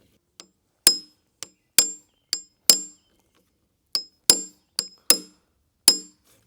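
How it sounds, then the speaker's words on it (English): An old-school manual impact driver is struck with a hammer to drive a Tapcon screw on a deck build, giving a series of sharp metallic clinks at irregular intervals, each ringing briefly. "I had a hard time with an impact driver to hammer in this this Tapcon"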